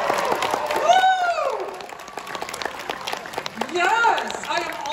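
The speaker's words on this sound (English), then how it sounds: "you'll give me a big round of applause" A convention crowd at an anime event's opening ceremony claps and cheers for the master of ceremonies in two bursts, with the host's voice sounding between them.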